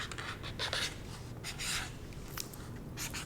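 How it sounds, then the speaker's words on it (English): Pen or pencil scratching out a short note on paper, close and soft, in several brief bursts of strokes with small pauses between them, no talking. "I'm just going to write a little note here."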